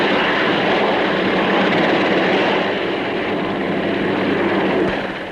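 A loud, steady roar of a heavy military helicopter, Europe's largest, running close by at the Farnborough air show in the 1950s, a dense engine and rotor drone that fades slightly at the end.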